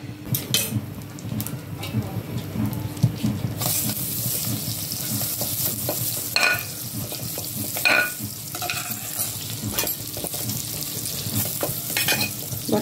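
Butter melts and sizzles in a pan for a cheese cauliflower dish, a soft continuous frying hiss punctuated by scattered clinks of a spoon against the pan, close by and with no voices.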